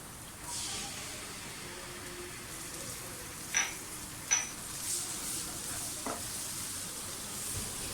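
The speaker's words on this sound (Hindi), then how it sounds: "प्याज पीक हो जाए तो इसमें लहसुन अदरक का पेस्ट डाल दें।" Garlic ginger paste sizzling in a pan of fried onions for moong dal khichdi, a soft steady hiss with a few brief stirring clinks, faint and close, no talk.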